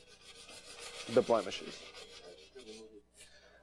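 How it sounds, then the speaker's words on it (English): Emery cloth rubbed by hand over a car wheel, a few short raspy scrubbing strokes, close and fairly quiet, with a brief spoken remark. "I'm going to use some emery cloth, and I'm going to come down in here and we're going to start sanding"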